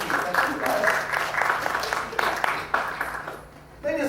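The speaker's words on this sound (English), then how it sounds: "A nice round of applause for Madame Fifi." Audience applause for a high-wire performer at a Dickens on the Strand street show in Texas, a steady dense patter of clapping that carries on for several seconds, with voices mixed in.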